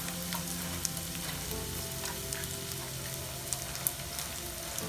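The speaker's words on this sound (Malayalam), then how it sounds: "അപ്പം നമുക്ക് അരിഞ്ഞു വെച്ചിരിക്കുന്ന ഒരു സവാള ഇതിലേക്ക് ഇടാം." Chopped onion dropped into hot cooking oil for a drumstick and potato masala curry, a dense, even crackling sizzle filling the whole stretch with a few tiny pops, close and unbroken, no talk.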